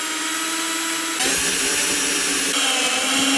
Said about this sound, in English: I can start drilling holes in my roof.